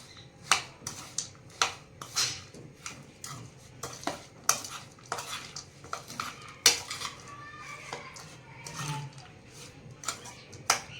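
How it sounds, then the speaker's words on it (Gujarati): A spoon clinks and scrapes against a bowl in quick, irregular strokes as a raw mango and onion salad is stirred and tossed, close and fairly crisp. "હવે આપણે બધું મિક્સ કરી દઈશું"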